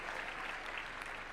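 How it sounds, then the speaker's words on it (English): Audience applause for young speakers at a live national conversation event in Kenya, a steady dense patter of many hands clapping, even and continuous with no voices over it. "Give them another round of applause, please."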